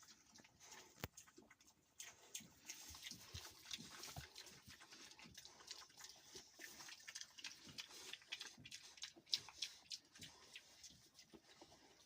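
Faint, continuous wet smacking and slurping of piglets eating starter feed in a barn, many small quick clicks and chomps scattered irregularly, no talking.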